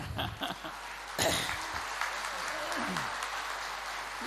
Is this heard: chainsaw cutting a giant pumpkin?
no